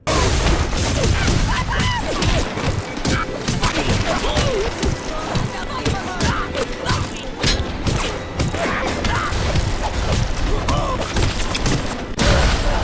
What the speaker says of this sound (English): Here's a wrench impact compilation followed by a series of metal pipe falling sound effects